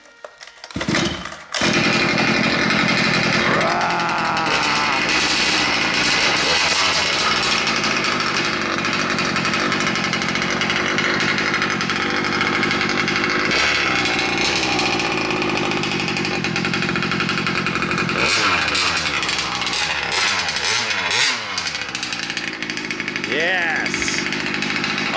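Gas-powered 1/5 scale custom Losi 5T 4x4 RC truck engine, loud and close, with a brief pull-start, then a sustained high buzzing rev running steadily for over twenty seconds with rising and falling throttle blips near the end.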